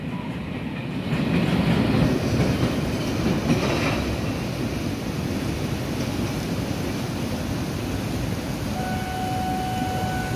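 Train 383 with air-conditioned coaches behind a GEA diesel locomotive passing Hua Mak station in the rain: a steady loud roar of wheels and clattering wagons rolling by close, with a faint squeal near the end.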